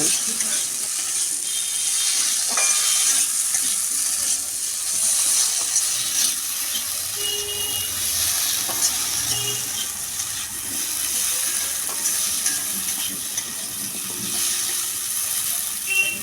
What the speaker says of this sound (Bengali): এখন দেব মুগ ডাল সব কিছু একসঙ্গে ভেজে নেব